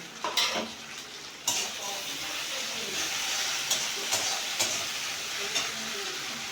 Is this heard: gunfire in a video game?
no